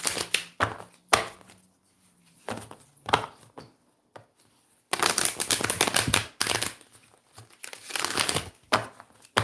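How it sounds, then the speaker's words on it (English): Tarot cards are shuffled in several quick riffling bursts separated by pauses, crisp papery rustles close to the listener. "Beautiful shuffle."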